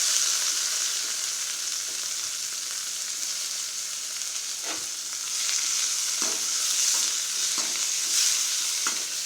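Chopped onion, tomato and curry leaves fry in a pan for sambar, giving a steady, close hiss of sizzling oil. Soft scrapes and knocks from stirring break through every second or so.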